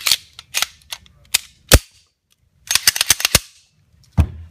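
Sharp metallic clicks and snaps from a Ruger American pistol as its slide is fitted back onto the frame, scattered single clicks followed by a quick cluster of close, crisp clacks.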